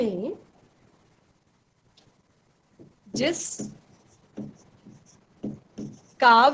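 Pen writing on paper in a Hindi classroom lesson, with short scratchy strokes under and between a teacher's spoken explanation; the writing sounds close and fairly quiet.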